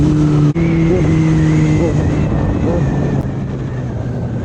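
A Kawasaki Z900 superbike cruising along a road between green fields, its engine holding a loud, steady drone that shifts pitch slightly as the throttle changes, with wind rush and no talk.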